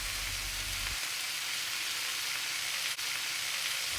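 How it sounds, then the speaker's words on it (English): Udon noodles with soy sauce and sriracha hiss in a hot stir-fry pan, a steady close sizzle with a low rumble fading early and a brief clunk near the end. "We just want to add it into the pan for that stir-fry flavor and sauce into the noodles."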